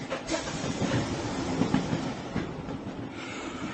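A train running along its rails inside a carriage, with a steady rumble and rhythmic clatter of wheels continuing throughout at moderate level.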